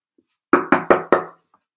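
Four sharp, evenly spaced knocks on a door ring out close and loud against silence, each decaying quickly, with a faint tap before and after.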